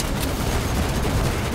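Mortar fire in the video game Starship Troopers: Extermination: a dense, continuous rumble of booming blasts that fills the whole short stretch with no pauses.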